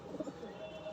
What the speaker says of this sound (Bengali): একটা পায়রা কিনেছি, রেসার পায়রা।